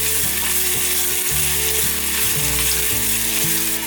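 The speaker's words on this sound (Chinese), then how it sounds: "油热了之后，放入姜末和芹菜末，把姜末和芹菜末炒香。" Minced ginger and celery stir-fry in a wok of hot oil, a loud, steady sizzle with rhythmic stirring scrapes throughout and no voices.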